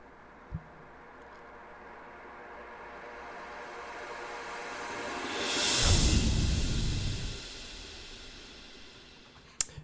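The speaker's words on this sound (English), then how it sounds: "some crashes, some sweeps, and then some of these transitions that have like the riser and then the down sweep" Electronic transition effects from a produced song: a soft crash hit, then a long noisy riser swelling to a peak near the middle before a down sweep fades away, ending with another short hit.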